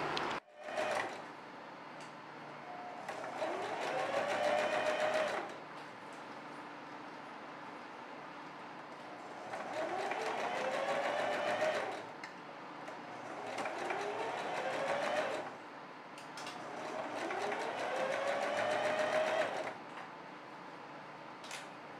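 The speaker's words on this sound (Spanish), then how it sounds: "doblando 1 centímetro y realizando la costura" A sewing machine stitches a folded one-centimetre hem on a dress in three long whirring runs of several seconds each, separated by short pauses with faint handling noises.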